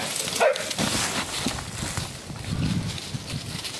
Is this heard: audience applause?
no